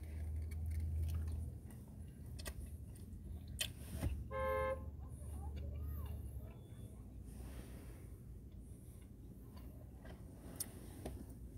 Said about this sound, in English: They ain't honking at me.